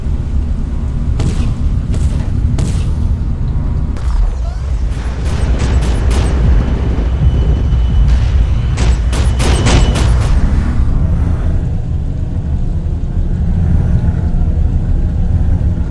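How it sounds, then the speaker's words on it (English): Anti-aircraft flak bursts around units in the strategy game Ground Control 2, a loud, continuous low rumble punctuated by clusters of sharp cracking detonations, some in quick runs, others spaced apart, with no speech. "We're taking flak."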